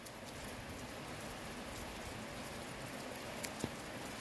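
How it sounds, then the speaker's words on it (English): Steady rain falling outdoors on a fishing trip, a soft even hiss of patter with a couple of brief louder drops near the end, no voices. "I'm gonna just wait for this rain to calm down a little"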